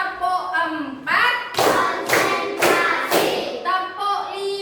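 A group of students claps in a counted rhythm during a classroom ice-breaker game, four loud sharp claps in quick succession, with talking before and after.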